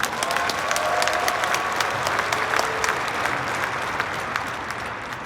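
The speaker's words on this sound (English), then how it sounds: "Let's clap it up for Dylan." Keynote audience at the Veecon conference claps steadily, a loud dense ovation with crisp individual hand claps standing out and a few faint voices underneath, easing off slightly toward the end.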